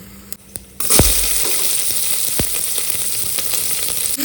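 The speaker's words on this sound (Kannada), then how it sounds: "ಆನಿಯನ್ ಹಾಕಿ ಈ ಥರ ತುಂಬ ಹೊತ್ತು ಅದನ್ನು ಫ್ರೈ ಮಾಡಬೇಕು" Onions sizzle in a pan for mango chitranna, a dense, steady frying hiss that starts abruptly after a quiet moment, with a couple of sharp stirring clicks, close up and without talk.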